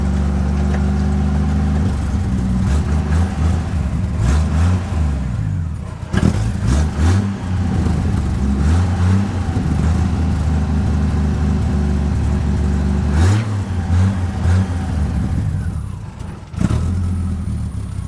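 A six-cylinder truck engine runs steadily nearby with a deep, throbbing idle, briefly revving a few times before settling back down.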